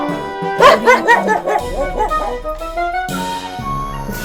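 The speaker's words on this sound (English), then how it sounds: "D-O-G. Dog." Dog in a children's cartoon about farm animals barks and yips in a quick run of bow-wows, then gives a few whining, whimpering calls, close and clear.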